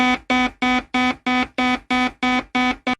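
Harsh electronic buzzer sound effect, a bright rasping tone pulsing in ten quick even bursts over about three seconds, loud and alone.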